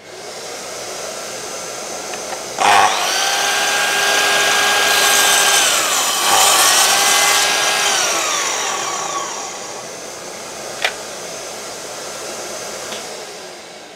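A Festool Kapex KS 60 miter saw whines up, bites through a wooden piece with a rising then falling pitched cut, spins down, and a brief knock follows; loud and near, no voices.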